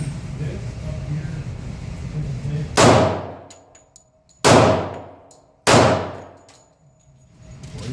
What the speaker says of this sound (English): 1911.